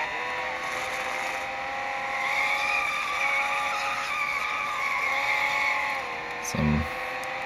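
Race car in Endurance GT Racing drifting at Circuit of the Americas in a 1962 season, tires squealing in a sustained high skid over a steady engine drone, loud and close, with a short thump near the end.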